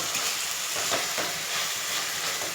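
Tomatoes frying in a pan with oil, a steady bright sizzle holding evenly throughout with no talk.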